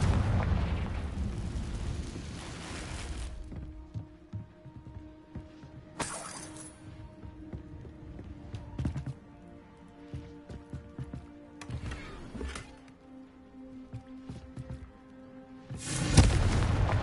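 Confringo blasting spells exploding in Hogwarts Legacy, several loud booming bursts with sharp cracks at the start, around six and twelve seconds and near the end, over a low steady game background hum.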